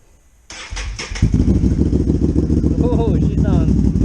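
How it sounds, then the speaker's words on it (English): A motorcycle engine with an HMF Performance exhaust cold-starts, cranking and catching, then settles into a loud, throbbing idle close by, with a person speaking briefly over it. "Let's get a cold start real quick."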